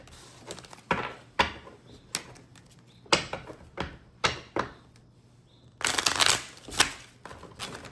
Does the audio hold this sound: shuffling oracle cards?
yes